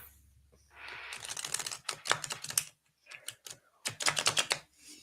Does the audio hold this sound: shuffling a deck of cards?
yes